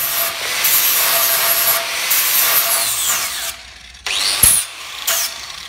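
Welds on hairpin table legs being ground down with a power tool, a loud harsh close grinding and rubbing that rises and falls in pitch, pausing briefly before a few shorter bursts.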